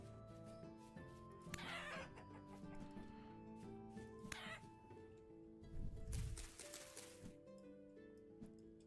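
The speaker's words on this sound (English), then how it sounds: "I heard a chicken" A chicken in the Vintage Story video game clucks faintly amid a busy mix of in-game music and ambient tones, with a few short squawks and a rustling burst partway through.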